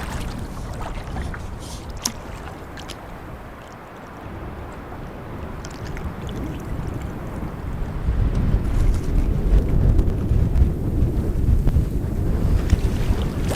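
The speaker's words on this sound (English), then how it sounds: "Pretty nasty paddling on this lake." Canoe heading into a strong headwind on a late-fall lake: a continuous roar of wind noise and water, steady at first and growing louder and rougher after the midpoint, with no voices.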